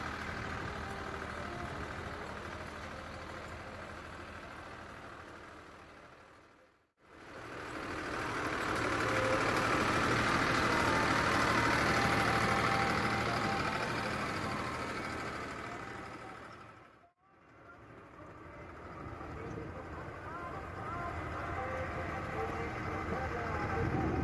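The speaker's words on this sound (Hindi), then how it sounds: "ट्रैक्टर चल रहा है" A Farmtrac 70 tractor runs a 60 rotavator through dry field soil, a steady rumbling engine drone broken by two brief dropouts, fairly close and continuous with no talk.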